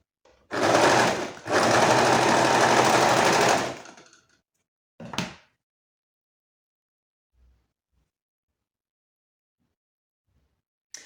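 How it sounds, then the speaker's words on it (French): Serger overlock sewing machine running through fabric in two loud, fast bursts with a brief pause between, followed by a short final burst, then near silence. "Donc là, quand je couds, je vois déjà que le point, ça va pas."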